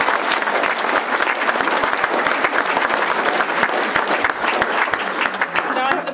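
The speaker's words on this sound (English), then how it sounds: "please give him one more round of applause" Sustained audience applause at a talk on truth-telling and fake news, dense and steady from a large crowd, loud and close, holding evenly throughout.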